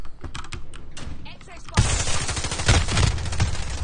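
Close, loud shotgun blasts from Call of Duty arrive in a rapid cluster of sharp cracks mixed with game noise, starting after a quieter, clicky opening of about two seconds.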